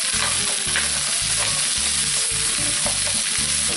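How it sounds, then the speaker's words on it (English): Chopped onion, carrot and squash sizzle in hot oil for a butternut squash soup, with rhythmic scraping stirs repeating roughly every half second over a steady close frying hiss. "Then into the oil, you go in with your onion, carrot and squash. Give them a stir around so the oil gets everywhere."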